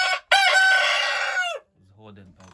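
A rooster crows loudly and close by in one long call, followed by softer clucking from nearby hens, at poultry feeding time on a farm.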